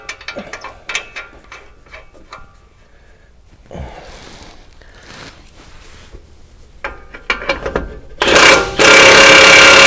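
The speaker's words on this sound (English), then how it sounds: "I'll go ahead and get this bottom bolt tightened up" A ratchet tightens the bottom bolt of a rear Bilstein 5100 shock on a RAM 1500, giving quick runs of sharp, close ratcheting clicks in short bursts before a much louder noise floods the end.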